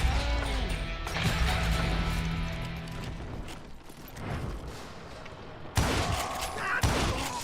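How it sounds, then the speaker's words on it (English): A gunshot from an apparently dead enemy in Call of Juarez: Gunslinger, set in a busy Western firefight where repeated shots and crashes clatter throughout, with a sharp, loud bang standing out near the end. "Did a dead guy just shoot me?"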